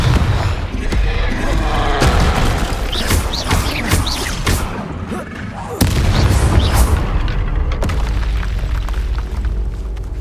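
Confringo fire spells blast in Hogwarts Legacy combat, producing repeated booming explosions with crackling debris amid game battle noise, loud and close, one heavy blast landing midway, with voices calling out during the fight.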